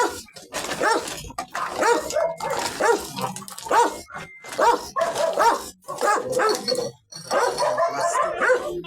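Several dogs bark repeatedly and close by at a junk collector's stop, overlapping yaps and barks in quick bursts with brief pauses, some higher whining yips mixed in.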